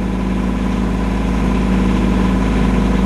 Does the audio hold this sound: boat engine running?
yes